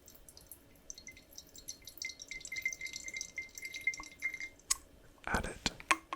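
Water sample dripping from a syringe into a small glass vial in a quiet lab setting, soft close drips and trickles building into a brief splashy pour near the end.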